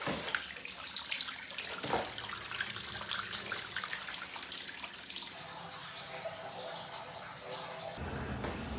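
A tap runs steadily, filling a Japanese ofuro hot tub with a soft, continuous splashing rush that is close and fairly quiet, then thins and changes tone near the end.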